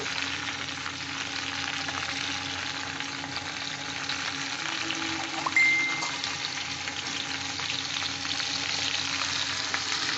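Vegetables for shukto sautéing in a pan give a continuous, even sizzle that holds steady throughout, with one faint metallic ping partway through.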